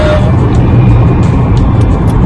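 A car is heard from inside the cabin, with a loud, steady engine and road rumble and no break in the drone.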